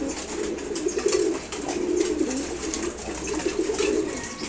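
Pet pigeons, including racers, coo steadily nearby in a loft while feeding, a continuous low warbling chorus with faint rustling above it and no talk.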